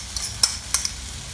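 Egg added to sautéing bitter gourd in a hot pan, heard as a soft continuous sizzle with a few light spatula taps and clinks, close by and without talk.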